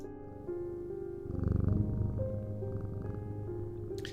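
A cat purrs with delight while rubbing against someone in the video game Strange Antiquities, a steady low rumble layered over soft game music and ambient tones.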